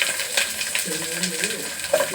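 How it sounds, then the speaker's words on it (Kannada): Sliced onion, curry leaves and cut dry chillies fry in hot oil for tempering, a steady close sizzle with a few soft stirring scrapes through the pan. "ಅದನ್ನು ಹಾಕಿ ಚೆನ್ನಾಗಿ ಫ್ರೈ ಮಾಡೋಣ."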